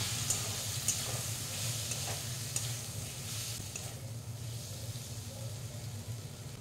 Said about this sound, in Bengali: এবার ভালোভাবে কষিয়ে নিতে হবে